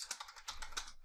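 Fast, irregular typing on a computer keyboard while entering text in the RStudio visual editor, with close, crisp keystrokes clicking in quick bursts and no talking.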